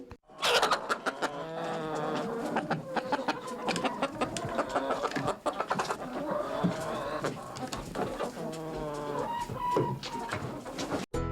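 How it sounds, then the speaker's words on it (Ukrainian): A flock of hens clucking and chattering continuously, busy overlapping calls close by with no talking. "Так, це голоси курей."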